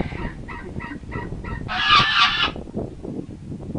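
Geese give a burst of loud, harsh honking in the middle, set apart from the shorter fowl calls that come before it. All of it sits over steady outdoor background noise, with no talking.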